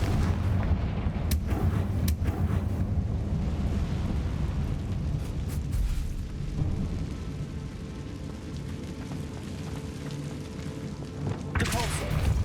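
An explosive Confringo spell is cast in the video game Hogwarts Legacy, giving loud booming blasts and rumbling impacts over a dense, noisy game soundtrack.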